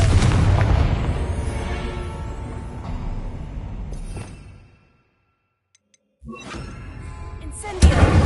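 Confringo blast spell in Hogwarts Legacy: a loud explosive boom that rumbles down and fades over a few seconds into silence, followed by another crackling burst and a sharp hit near the end.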